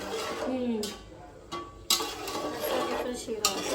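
Semolina sheera is stirred and roasted in a pan, with scraping strokes and occasional clinks of a spoon against metal over a low sizzle, close by, while people talk throughout.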